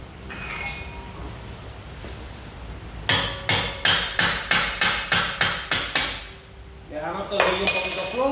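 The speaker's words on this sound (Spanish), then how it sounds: "le metemos martillazo para sacarlo del buje" A hammer strikes a Seat Leon 2 driveshaft to knock it out of the front wheel hub: about ten loud, evenly spaced metallic blows, close up, with lighter clinks of tools before and after.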